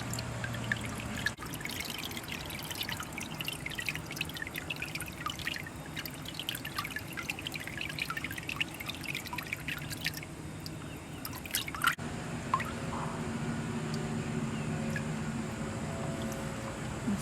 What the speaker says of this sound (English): Move it around a little so that all the water falls out.